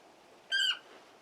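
A bird companion in Final Fantasy XVI lets out a single short, shrill squawking call, clear and close against a quiet background.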